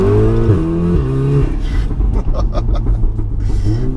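A tuned 500 bhp Stage 3 VW Golf R revs hard after a downshift, its loud engine note sweeping up and down with rumbling pops and crackles in a close recording.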